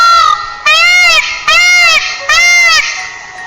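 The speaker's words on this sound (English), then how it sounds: "Peacock." A peacock gives three loud, wailing calls, each rising and falling with a bright nasal tone, spaced evenly and heard alone with no talk.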